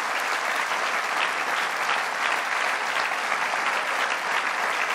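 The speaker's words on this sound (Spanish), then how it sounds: "quiero que se lo reconozcamos con un aplauso a nuestra querida ministra de Educación y Formación Profesional, Aizado Estela." An audience at a party candidate presentation in the Basque Country claps loudly and continuously, a dense close wash of hands with no break or voices on top.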